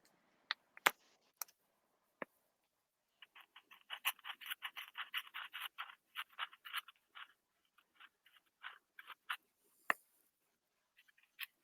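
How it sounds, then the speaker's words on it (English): Marker tip drawing eyes on a paper bookmark, quiet close squeaky strokes in short bursts and scratches, with a few sharp taps scattered between, no talking. "grab a marker and draw on some eyes"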